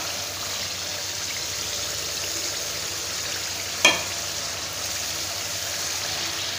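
Beef karahi simmers in a pot after yogurt has been added, a steady, soft bubbling sizzle close by with one brief knock partway through and no voices.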